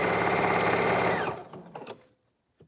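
A sewing machine runs a steady, loud burst stitching a half-inch seam on a shift dress, then stops partway through, leaving a few soft clicks and handling noises before near silence.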